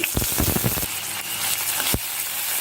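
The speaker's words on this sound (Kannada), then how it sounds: "ಈರುಳ್ಳಿನೂ ಸಹ ಚೆನ್ನಾಗಿ ಫ್ರೈ ಮಾಡ್ಕೊತಾ ಇದ್ದೀನಿ" Garlic and finely chopped medium onion frying in a pan for chutney, a close, steady sizzle with a run of quick stirring scrapes near the start and another near the end.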